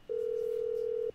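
A phone in GTA V places a call, giving a single steady ringing tone that holds for about a second, clear and alone.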